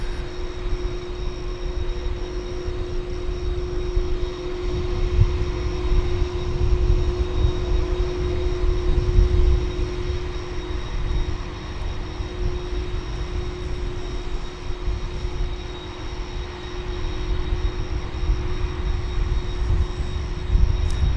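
A McDonnell Douglas MD-11 at Dallas Fort Worth airport, heard as a distant, steady jet rumble that swells slightly midway, with a constant tonal hum running throughout and no voices.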